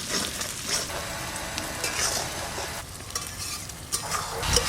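Green chilli kashundi pickle fries and sizzles in a kadai while a spoon stirs it repeatedly, the close bubbling hiss broken by soft scraping strokes against the pan.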